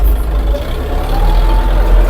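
A heavy tractor engine drones steadily at low pitch while plowing a garden plot with a two-furrow plow, a continuous loud rumble with no talking.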